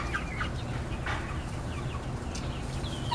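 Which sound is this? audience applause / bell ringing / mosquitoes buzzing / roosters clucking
roosters clucking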